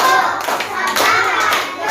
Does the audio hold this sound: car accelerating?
no